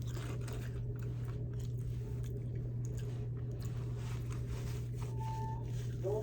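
Someone chews fresh, hot Burger King french fries close up. Soft, squishy chewing and biting sounds sit over a low steady hum, with no talking.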